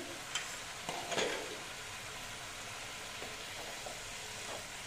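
Sliced snake gourd frying in a pan, giving a soft, even sizzle throughout with a few brief louder crackles near the start.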